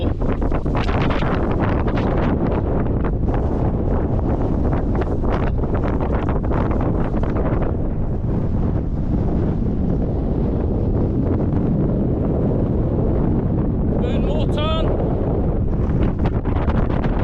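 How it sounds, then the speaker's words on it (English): Strong wind roars across the summit of Scafell Pike at about 3100 ft, a loud, continuous buffeting rush that batters the microphone throughout, with no voices. "It's quite windy"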